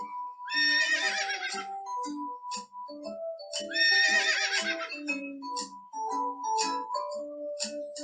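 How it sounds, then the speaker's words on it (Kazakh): A horse neighs loudly several times, long shrill whinnies with snorting breaths in between, close by. "Жылқы кісінейді."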